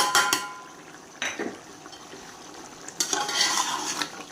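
Chicken pulao rice with spices is stirred in a hot pot, a spoon scraping and rattling in a few short bursts with soft frying sizzle between, close and moderately loud.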